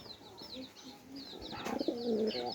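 Pigeon cooing, soft repeated low coos mixed with bird chirps, growing louder toward the end, near and clear.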